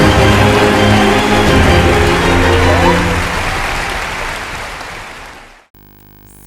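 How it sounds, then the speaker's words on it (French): A church congregation applauding and cheering loudly for Jesus, dense sustained clapping and shouts that gradually thin out and cut off abruptly. "Acclame très fort Jésus."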